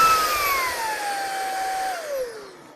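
A Sebo Balance upright vacuum cleaner runs steadily with a loud, continuous motor whine whose pitch slides lower partway through before the sound tapers off.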